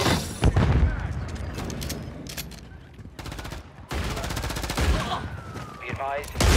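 Rapid automatic gunfire and sharp shots in a Call of Duty Hardpoint match, loud and near, coming in clustered bursts with booming impacts and game voice callouts.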